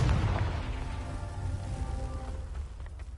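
A Confringo fire spell explodes in the video game Hogwarts Legacy, a loud booming blast at the start that rumbles and fades away over a few seconds.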